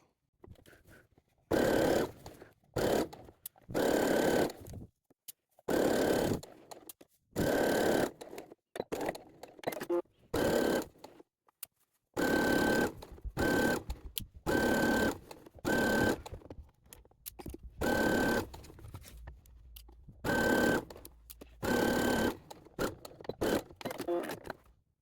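Sewing machine stitching a child's ghost pinafore Halloween costume in repeated bursts of fast whirring, starting and stopping every second or two, close and loud with quiet gaps between runs.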